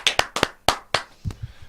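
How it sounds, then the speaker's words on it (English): A handful of sharp, separate hand claps from a small group cheering Halifax rugby league, a few quick slaps close up and then a brief mumble of voices. "Hey, round of applause for that."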